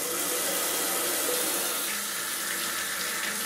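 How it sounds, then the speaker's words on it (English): Steady running water gushes from a household tap fitted for a water-efficient shower head, a continuous broadband hiss filling the whole stretch, close and even with no talking. "Turn on the tap."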